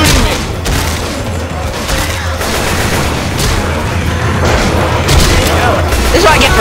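Dense gunfire and booms from the video game Left 4 Dead 2 in the Dead Center campaign, loud and continuous for several seconds, with shots overlapping in a constant barrage.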